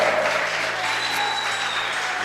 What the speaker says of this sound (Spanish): Dele un aplauso al Espíritu Santo